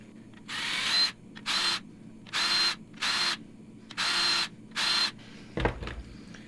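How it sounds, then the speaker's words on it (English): A Harbor Freight drill bit, oiled with WD-40, deburrs the edge of a hole in aluminum, giving six short whirring bursts of about half a second each with pauses between them, then a brief clunk at the end. "I believe I actually will take the Harbor Freight bit now and just use it to clean the perimeter of the hole"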